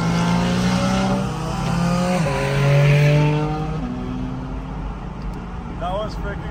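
A Porsche GT4 RS sports car roars past with a rising engine note through several quick gear changes, then fades into the distance as people react excitedly over it.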